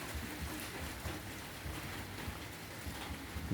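Rain pours onto an unfinished balcony in a dense, steady hiss that stays even throughout, with no voices.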